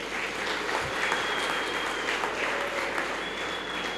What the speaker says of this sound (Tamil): இவங்களுக்கு ஒரு நல்ல ஒரு கைத்தட்டு தட்டுங்க.